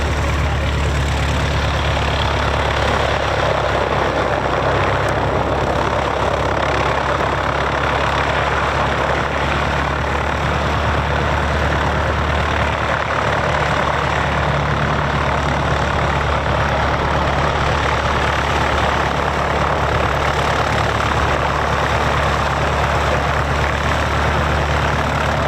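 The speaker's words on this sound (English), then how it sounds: "an Enstrom 480 helicopter joining us as part of the fly-in" An Enstrom 480 helicopter runs at an airfield during a fly-in and airshow, its engine and rotor making a loud, steady, unbroken drone that holds without change for the whole stretch, with no voices.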